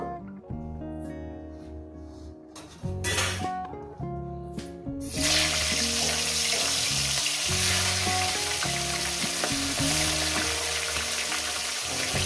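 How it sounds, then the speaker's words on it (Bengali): Rohu fish heads hitting hot oil set off a loud, dense, continuous sizzle from about five seconds in, with tonal background music running underneath throughout. "আমি মাছের মাথাগুলো আস্তে আস্তে দিয়ে দেব।"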